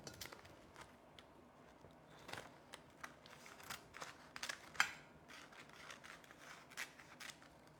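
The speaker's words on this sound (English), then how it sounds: "I'm going to use the scissors to do that." Scissors snip through a sheet of nori seaweed in a kitchen, producing a series of faint, crisp cutting clicks and rustles at close range, with one sharper snip midway and no talking.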